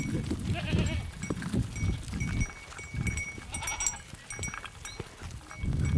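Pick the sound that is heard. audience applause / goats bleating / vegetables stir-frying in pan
goats bleating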